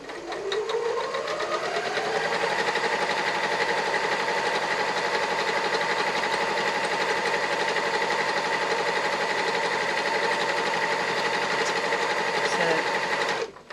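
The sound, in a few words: sewing machine stitching a laptop bag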